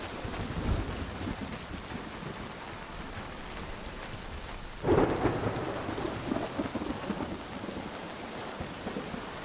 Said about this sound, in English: it's raining again where we are. It's like, it's a lot of rain.